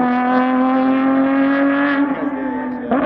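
Lamborghini Essenza SCV12 race car with a V12 engine holding a loud, steady high-pitched drone that dips slightly before a sharp rise near the end, close by and alone.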